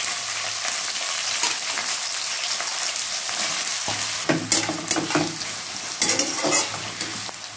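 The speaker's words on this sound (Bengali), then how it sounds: "এবার পেঁয়াজ কুচিগুলো দিয়ে দিচ্ছি" Chopped onions hit hot oil already holding ginger and chilli, sizzling and crackling steadily at close range with scrapes of stirring and a few louder spatters toward the end.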